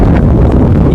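Strong outdoor wind buffets the microphone in a loud, continuous low roar for about a second, with no voices.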